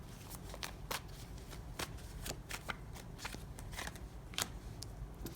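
Tarot cards being shuffled in a steady run of crisp riffling bursts, close and quiet, with no voices.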